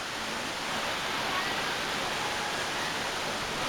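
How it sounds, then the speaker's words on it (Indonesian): Constant roar of the Takapala waterfall in Malino, a dense, even wash of falling water that holds steady from start to finish. "tampak latar belakang saya adalah air terjun"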